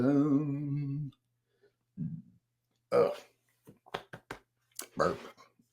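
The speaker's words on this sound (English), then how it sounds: "Burp." A low, drawn-out burp lasting about a second, followed by a few short mouth noises and quiet clicks, close to the mic.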